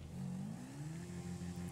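A motorcycle engine in GTA V Online revs with a steady, rising mid-pitched drone that holds and wavers as the bike drifts, heard alone without talking.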